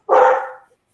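A single sharp dog bark rings out loud and close, decaying quickly into silence with no talk around it.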